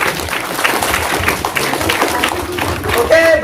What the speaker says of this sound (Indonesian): Sekali lagi hadirin, beri tepuk tangan